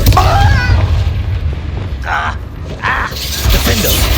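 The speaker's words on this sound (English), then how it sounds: "Confringo!" Fiery Confringo spell blasts in Hogwarts Legacy land as loud, rumbling explosions with crackling mechanical bursts, a couple of sharper pops near the middle, and a voice briefly talking at the start.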